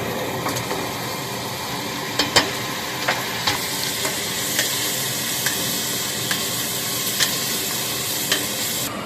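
Continuous loud sizzling and crackling of tomatoes added to a tempering in a hot pan for mutton curry, with occasional sharp pops and spoon clinks, no talking.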